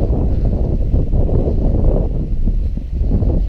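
Strong, gusty coastal wind roars steadily at Loop Head Light, a dense low rumble buffeting close to the microphone with surges and lulls and no voices.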